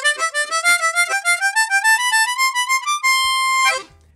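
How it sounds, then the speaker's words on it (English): Harmonica playing a quick rising triplet run, notes climbing steadily in short grouped bursts before landing on a long held high note that cuts off; solo and close, no talking. "It's the triplet climb, and it sounds like this."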